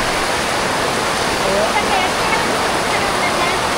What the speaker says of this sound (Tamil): இங்கே பாருங்க தண்ணியா வாய்க்கால வர மாதிரி வருது